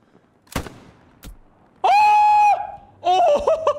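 A sniper rifle fires in Hell Let Loose, a World War II shooter game: one sharp, loud crack and a fainter second report, then loud drawn-out shouting voices.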